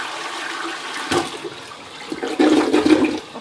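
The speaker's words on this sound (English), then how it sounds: "so I'm just gonna flush it." Toilet flush in a home bathroom: a sudden rush of water followed by a swirling, gurgling drain, loud and close, with no talking.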